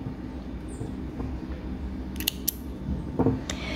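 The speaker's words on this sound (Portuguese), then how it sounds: "Pode cortar o fio." Scissors snip through yarn while an amigurumi doll is being made: a few short, sharp cuts near the end over a steady, noisy room background.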